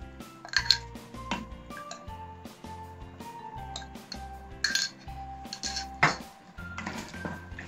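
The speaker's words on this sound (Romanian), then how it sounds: "Amestecăm bine, bine," A metal utensil stirs food in a pan during home cooking, with repeated clinks and scrapes in an irregular rhythm, close and fairly quiet.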